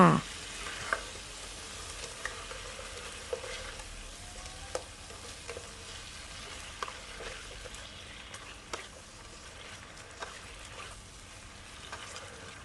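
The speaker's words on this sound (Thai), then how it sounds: "จากนั้นก็ทำการผัดต่อค่ะผัดคลุกเคล้าให้ส่วนผสมทุกอย่างเข้ากันค่ะ" Catfish with seasoning powder and dried chilli stir-fried in a pan, a steady low sizzle under occasional soft clicks and scrapes of a spatula mixing, no voices.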